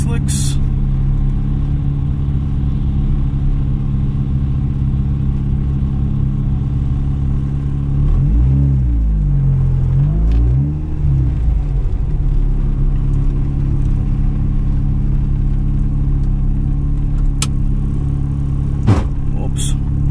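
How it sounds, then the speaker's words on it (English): A car rumbles steadily around the burnout box at a track day on street tyres, a loud, close engine drone with a brief revving swell midway and occasional clicks. "Driving around the burnout box because I ain't running slicks."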